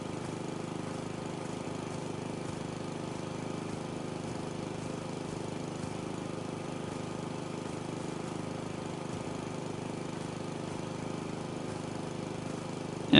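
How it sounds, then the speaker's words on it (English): A lawnmower runs in the video game House Flipper 2, a steady, even engine drone that holds at one level throughout with no pauses. "This is not the way a lawnmower should work."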